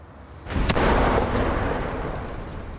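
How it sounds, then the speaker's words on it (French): A bomb detonates in the air above the surface: a sudden loud blast with a sharp crack, followed by a sustained rumbling roar that slowly decays, heard alone. "Comme le détonateur a explosé dans l'air, à la surface, rien ne contenait la pression."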